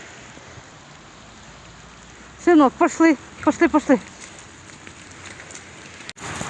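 Heavy rain pours down on a Kyiv street in winter, a steady close hiss that runs through the whole stretch while someone speaks briefly in the middle.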